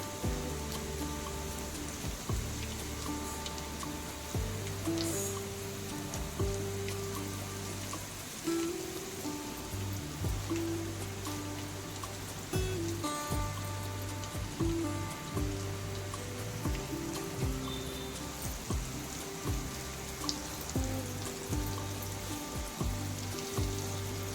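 Bombay duck (bombil) fish frying with garlic in a hot pan: a steady, loud sizzle and crackle of oil runs throughout, with occasional louder spits and pops and no talking.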